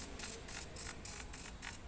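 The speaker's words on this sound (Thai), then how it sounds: "นี่ครับเครื่องพิมพ์ก็ทำการพิมพ์" A portable wireless printer runs up close, giving a steady mechanical whir with a quick, regular ticking rattle of the feed mechanism as it prints, with no voices over it.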